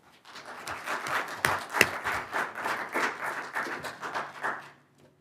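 A city council meeting audience applauds for about five seconds, a dense, even patter of many hands clapping at moderate volume that fades out at the end, with no talking over it.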